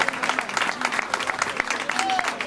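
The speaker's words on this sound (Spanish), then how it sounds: "Un aplauso para Monchu." Audience applause at a sports celebration gathering in Colloto, Asturias, honouring Monchu Cerra, the K2 marathon canoeing world champion: a close burst of clapping with a voice mixed in, lasting only a couple of seconds.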